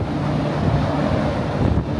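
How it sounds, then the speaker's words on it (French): Strong wind buffets the microphone in a steady, roaring rumble on a cold night outdoors at a customs stop during a Morocco-to-France move, with no voices. "Il y a beaucoup trop de vent, il y a beaucoup trop de bruit."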